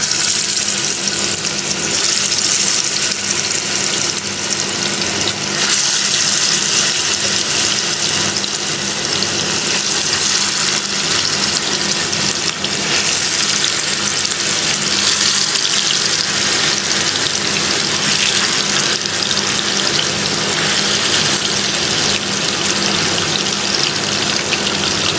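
Marinated chicken fries in hot oil with a steady, loud, broadband sizzle that holds for the whole stretch, and no voices are heard.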